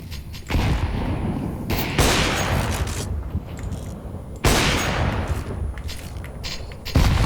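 A grenade is thrown and explodes in Counter-Strike 2, with heavy booming blasts and gunfire-like bursts cutting in repeatedly over a dense, rumbling battle din.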